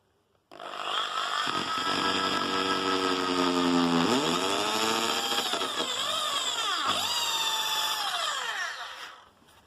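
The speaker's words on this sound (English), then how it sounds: "Hold my drill steady." A power drill whines steadily at high speed for several seconds, its pitch dipping briefly as it bites into a ukulele while drilling a pilot hole for a strap button, then winds down and stops.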